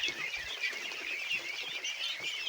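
Domestic ducks being fed organic feed make a dense, continuous chorus of close, busy chattering calls without pause.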